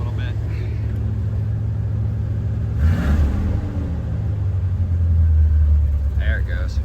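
A car with straight-pipe exhaust idles loudly and close, a steady deep rumble with a brief swell in the middle and a low droning throb later, while a person speaks briefly over it.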